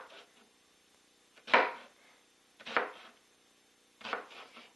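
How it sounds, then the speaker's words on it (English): A knife slicing an onion into very thin slices for a Greek village salad, heard as three separate crisp cuts spaced about a second apart, close and clear, with quiet pauses between them. "from one half just start slicing very thin slices"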